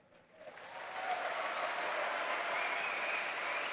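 Audience applause fills a large hall at the Gamescom 2024 opening night, rising quickly from a quieter start into steady, dense clapping that holds loud and even.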